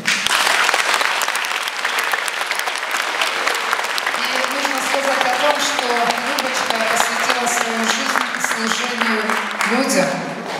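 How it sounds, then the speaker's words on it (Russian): Dense applause fills a jubilee concert hall throughout, with a sustained melodic voice or music rising over the clapping in the second half. "Любаша, ей аплодисменты."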